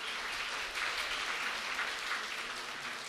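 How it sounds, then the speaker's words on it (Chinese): A church congregation applauds with a soft, even wash of clapping that stays steady and fairly distant throughout, with no distinct voices. "来，我们鼓掌拍手欢迎。"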